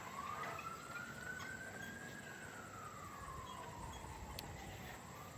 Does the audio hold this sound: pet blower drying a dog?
no